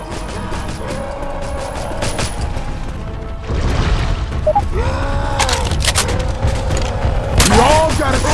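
Gunfire at the Tank in Left 4 Dead 2: rapid shots and heavy booms pile up into a loud, chaotic barrage, growing denser partway through, while people shout over it.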